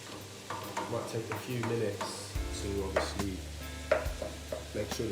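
Chicken frying in a pan sizzles steadily while being stirred, with scraping and clinking utensil sounds throughout and a low background hum, recorded close up with no speech.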